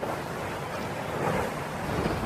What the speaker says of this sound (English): You see the waves, Ollie?